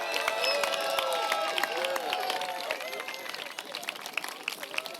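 Outdoor crowd at a park opening applauding a speaker with clapping and cheering, whoops and voices rising over the steady patter of many hands.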